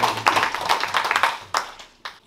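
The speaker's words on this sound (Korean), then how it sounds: "박수 받게 해주십시오." A short stretch of hand clapping at a ceremony marking ten years of the Nogeun-ri Peace Park, several sharp claps in an uneven rhythm from a small group, fairly close and brief.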